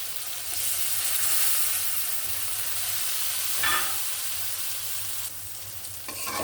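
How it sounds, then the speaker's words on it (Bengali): Hilsa fish pieces sizzle steadily in hot oil in a pan, a broad continuous frying hiss with a brief stirring scrape partway through and a slight drop in level near the end; no one speaks. "মাছটা একটু আমি হালকা করে কষিয়ে নেব"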